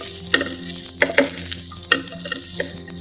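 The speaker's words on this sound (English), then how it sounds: "We got some onion and mushroom cooking together." Onion and mushroom fry together in a pan for risotto, a close, bright sizzle punctuated by sharp stirring and scraping strokes at irregular intervals, without any voices.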